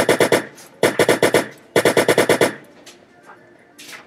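Heckler and Koch 416 rifles in a Roblox game fire three loud, close, rapid bursts of about five to six shots each, separated by short pauses, followed by faint trailing sounds.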